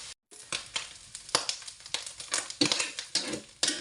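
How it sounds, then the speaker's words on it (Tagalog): Ham frying in its own rendered fat, a dense sizzle with frequent sharp pops and crackles, close and fairly loud, no talking. "Kumbaga piniprito ko muna ng habon para maging crunchy."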